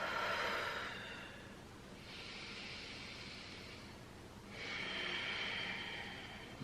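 Slow yoga breathing during a beginner flow: a long breathy exhale, then a long inhale and another long exhale, close and soft, with no talking.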